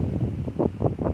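Strong outdoor wind buffets the microphone in a steady low rumble that swells and gusts in several pulses, with no other sounds over it.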